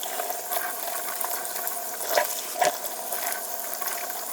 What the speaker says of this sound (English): now we're just going to rinse the beans